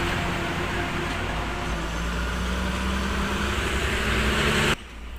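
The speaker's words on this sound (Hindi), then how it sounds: "कितने ज़्यादा गाड़ियाँ चलती है, देखिए।" Heavy traffic on a main road linked to a national highway, where large vehicles pass: a continuous broad roar of engines and tyres that cuts out suddenly near the end.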